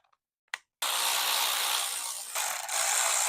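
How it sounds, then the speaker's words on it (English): A ratchet backs four screws out of the seat plate on a Permobil M3 power wheelchair, giving a dense, continuous buzzing whir close by after a couple of brief clicks, with a short dip midway. "I have 4 screws in there. I'll be taking out."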